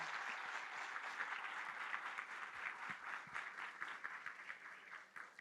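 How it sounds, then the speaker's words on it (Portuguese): A business-event audience in Pernambuco applauds Minas Gerais governor Romeu Zema, a steady, distant wash of many hands clapping that holds evenly at a faint level throughout. "vamos aplaudir o governador de Minas Gerais, governador reeleito, Romeu Zema"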